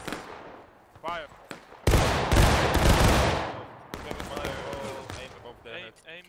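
A company's musket volley fired in a line-infantry video game: one loud crashing burst of massed shots with a rolling tail, with voices shouting orders before and after.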